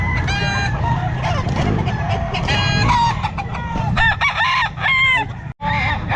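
Several Sweater gamefowl roosters crow loudly and repeatedly in overlapping calls amid steady clucking at a busy pet market in Calumpit, with the crowing near and harsh over a dense background din.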